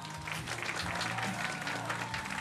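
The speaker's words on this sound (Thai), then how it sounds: "ก็ขอเสียงปรบมือนะครับ" An audience breaks into steady, dense applause, the clapping continuous and fairly close throughout, with faint murmuring beneath it.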